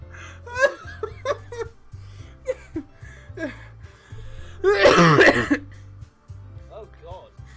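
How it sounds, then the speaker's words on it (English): A person bursts into laughter and then breaks into a short, loud fit of coughing and throat clearing, with a low hum running underneath and quieter voiced sounds before and after. "When I laugh too hard, I start coughing."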